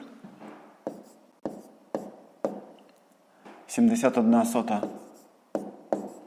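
Pen or pencil writing numbers by hand on paper while working a column addition problem, with short scratchy strokes and taps recurring every half second or so, and a burst of talk midway.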